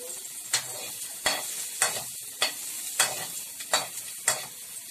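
Chopped onion stirred in a hot frying pan while making a homemade hotdog sauce, giving a steady sizzle broken by about eight sharp scraping strokes of the spoon at a regular rhythm, close and clear with no talking.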